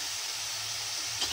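Ground coriander, turmeric and salt tip into hot oil with cumin, giving a steady soft sizzling hiss close by, with a slight stir at the end.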